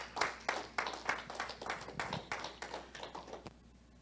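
A church congregation claps in a steady rhythmic beat of about two claps per second, moderately near and carrying along for several seconds before it stops.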